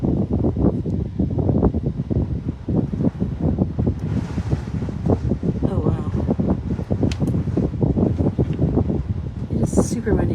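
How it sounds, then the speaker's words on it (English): Strong outdoor wind buffets the microphone in a constant low rumble, steady throughout beneath a person talking almost continuously. "It is super windy."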